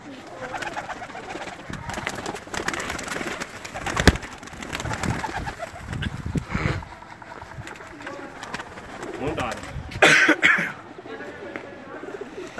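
Pigeons coo in soft, repeated throaty calls amid rustling and handling noises, with a sharper burst of sound near the end.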